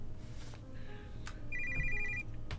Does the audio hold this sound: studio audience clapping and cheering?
no